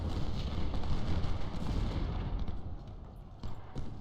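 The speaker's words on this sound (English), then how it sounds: "we've got plenty of artillery coming down on Coburn" Artillery fire booms in Ultimate General: Civil War, a dense rumbling barrage of overlapping low blasts and crackles, loud and continuous, with no talk over it.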